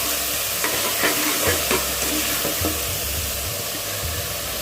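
Tomatoes sautéing in a hot pan for spinach sambar, a continuous sizzle and frying hiss broken by scraping stirs of a spoon against the pan, close and loud with no talk.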